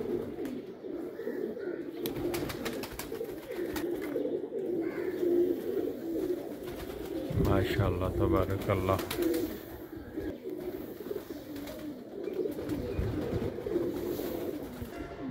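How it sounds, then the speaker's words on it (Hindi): Pigeons of a fine breed kept by a fancier in Pakistan coo softly in the background, a low steady burble running throughout while someone speaks briefly over them. "ये अच्छे कबूतरों का शौक़ करा रहा हूँ मैं, जो अच्छी नस्ल के कबूतर हैं।"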